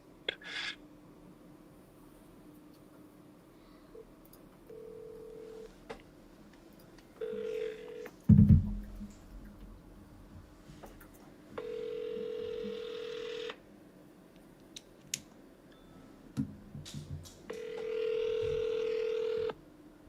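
A phone call being placed: a dial tone and bursts of keypad dialing, then repeated electronic ringback tones at steady intervals, quiet and clear with a brief louder clunk partway through and no speech.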